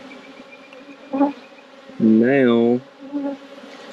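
Honeybees from a swarm being caught buzz in short bursts near the microphone, with one louder, wavering drone in the middle. A voice speaks briefly.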